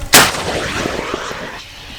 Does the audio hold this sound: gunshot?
yes